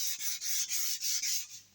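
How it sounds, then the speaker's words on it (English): Steady back-and-forth rubbing of 400 grit sandpaper on a CST-24 guitar kit body, close and fairly loud, in short repeated strokes with no talking. "I've just got to be careful not to sand the binding off at the same time."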